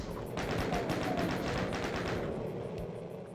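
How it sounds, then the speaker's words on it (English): Rocket launcher fire and explosions in DOOM II sound as a dense, continuous barrage of rapid blasts and booms, loud and sustained, then thinning out toward the end. "Get out your rocket launcher, and then as soon as you strafe up, just fire."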